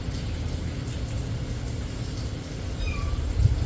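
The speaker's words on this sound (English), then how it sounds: "Y'all hear my cat?" A pet cat gives a brief, faint meow near the end, barely rising above a steady low rumble in a home kitchen where bacon is cooking.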